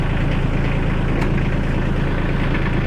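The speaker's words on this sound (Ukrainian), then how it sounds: "Все, тракторець запустився у нас без будь-яких проблем." A small Iseki TK 25 tractor engine runs at a steady idle, a constant low, throbbing hum with even vibration, close by and loud, with no voices.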